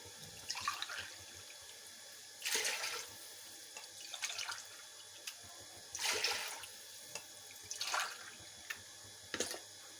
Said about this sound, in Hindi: अब इसमें मैं पानी डाल लेती हूँ।